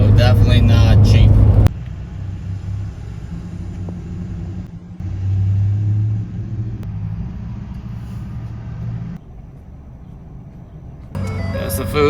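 A diesel truck cruises along a remote stretch of the Sea to Sky Highway toward Alaska, its steady low engine rumble and road drone filling the cabin, with louder bursts at the start and end.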